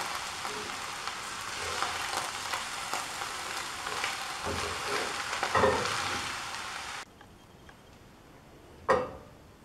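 A spinach and rice mixture stirred in a pot, with a steady sizzle under spoon scrapes and knocks that stops abruptly, followed by one last clink near the end.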